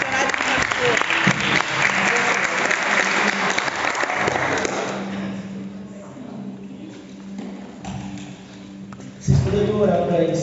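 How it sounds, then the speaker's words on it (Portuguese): A church youth service congregation applauds in a loud sustained burst of clapping and cheering that fades by the middle. A voice then talks over lighter scattered claps before another short swell at the end. "Uma salva de palmas pela vida do missionário, da missionária que nasceu."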